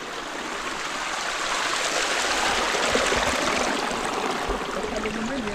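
Stream water flows steadily along a forest trail, a continuous broadband rush and trickle at moderate level with no voices.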